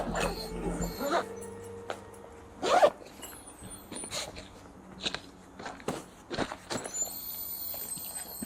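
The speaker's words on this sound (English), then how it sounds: "see what happens when we zip it all up." Intermittent zipping rasps on a Blackwater Tribute 135, short pulls repeated several times with pauses between them, close by, amid faint rustling and handling noise.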